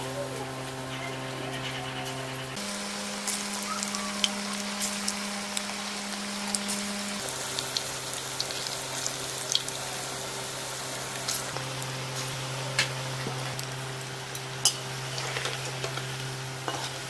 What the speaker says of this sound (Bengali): তেল গরম হয়ে গেছে, এবার সয়াবিনগুলো ভেজে নেব।